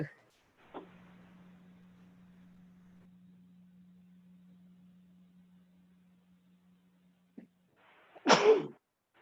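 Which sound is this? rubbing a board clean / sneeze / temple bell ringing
sneeze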